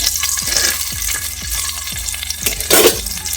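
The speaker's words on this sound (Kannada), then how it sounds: "ಫಸ್ಟು ಬೆಳ್ಳುಳ್ಳಿ ಹಾಕ್ತೀನಿ, ಒಗ್ಗರಣೆ ಇದು ಮಾಡಿದ್ದೀನಿ" Garlic frying in hot oil for a tempering, the start of a bottle gourd stir-fry in an Indian home kitchen: a steady close sizzle with repeated stirring scrapes about twice a second and a brief louder splutter near the end.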